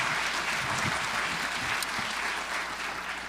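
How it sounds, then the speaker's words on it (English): Steady audience applause at an education awards event honoring teachers, a dense, continuous wash of many hands clapping at moderate loudness, no talk over it, tapering slightly near the end. "another round of applause for teachers"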